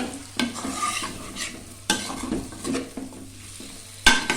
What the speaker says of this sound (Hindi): जैसा कि आप देख रहे हैं हमारा प्याज हाफ फ्राई हो गया